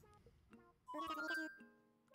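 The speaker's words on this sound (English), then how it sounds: "Hold the phone. Someone's calling on the phone." A phone rings in the Animal Crossing video game with a short tinkling melodic chime, soft and brief, preceded by light game blips.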